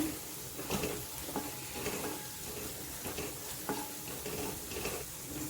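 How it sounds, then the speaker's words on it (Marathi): Onion frying in oil in a pan, a steady close sizzle with occasional stirring scrapes and clicks, no voices. "कांदा छान गुलाबी झाला आहे आपला"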